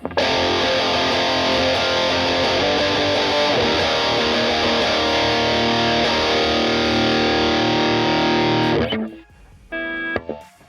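A heavily distorted electric guitar chord through a Triple Recto amp model rings out loud and sustained, then cuts off abruptly, followed by a brief quieter strum.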